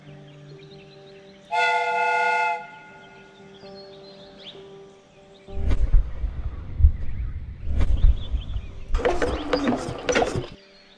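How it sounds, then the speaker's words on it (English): A steam whistle on a replica train in the video game Sherlock Holmes Crime and Punishment gives one short, loud, harmonic blast, followed by clanking mechanical rattles and hissing bursts of steam. "The steam whistle is ready to be used."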